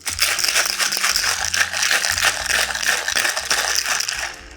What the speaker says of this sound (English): So into my shaker filled with ice, I'm gonna give this a nice shake.